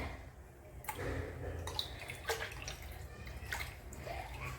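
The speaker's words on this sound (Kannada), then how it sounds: "ಇವಾಗ ನಾನು ಒಂದು ಫ್ರೆಶ್ ವಾಟರಲ್ಲಿ ಅಂದರೆ ನೀರಲ್ಲಿ ನಾನು ಇದನ್ನು ತೊಳ್ಕೊತೀನಿ" Silver pooja items being rinsed by hand in a pan of fresh water, quiet splashes and sloshing with a few sharp clinks and drips, close and soft.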